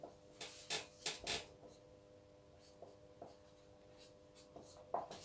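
Chalk or marker scratching on a board during a Hindi geometry lesson on circle area, heard as a few quick bursts of strokes near the start, then sparse faint taps and scrapes in a quiet room.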